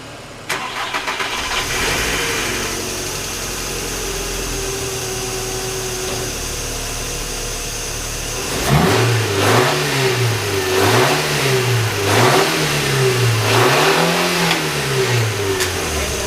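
A VW Golf Mk4 engine cranks and catches after a fresh oil change, settling into a steady idle before several rhythmic revs rise and fall, loud and close with no talking.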